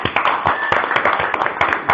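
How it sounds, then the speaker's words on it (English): A clapping machine produces rapid, crisp rhythmic bursts of applause-like claps during an online Mozilla Webmaker call. The claps are loud and close, with no voices. "Clapping machine."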